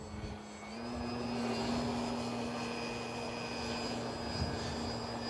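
An RC model airplane engine runs at full throttle, a steady high-pitched whine that rises and holds after the first second, continuous and fairly loud with faint shifting overtones.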